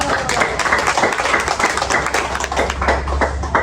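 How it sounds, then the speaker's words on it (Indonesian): A roomful of people clapping in a university lecture class, dense and steady applause continuing throughout without a break. "Terus, ya, tepuk tangan dulu."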